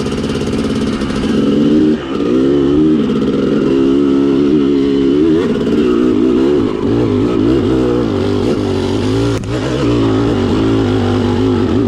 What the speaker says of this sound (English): That second gear right there, that's why she's lugging.